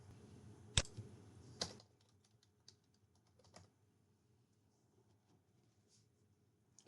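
Typing on a computer keyboard at a desk, soft quick key taps with a couple of louder clicks early on, then sparse faint keystrokes in a quiet room.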